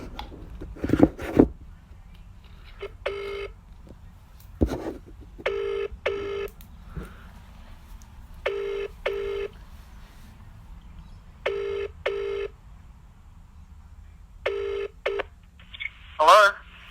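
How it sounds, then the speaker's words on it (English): A telephone line rings out on an outgoing call, with the ringback tone repeating in evenly spaced double bursts against near silence, and a few short knocks and noises at the start and end. "It's ringing."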